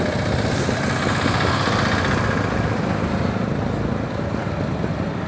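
Motorbike riding on a road behind a truck in Ludhiana at 6 AM. A continuous, close engine drone and road rumble hold at a steady level throughout.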